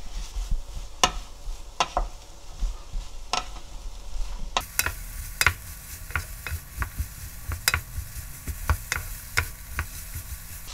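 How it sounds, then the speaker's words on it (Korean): Julienned potato strips stir-fry in a pan with a soft, continuous sizzle, punctuated by repeated sharp scrapes and clacks of a utensil against the pan. The sizzle grows louder and busier partway through. "감자를 거의 익힐 정도로 볶아? 한참 볶아줘."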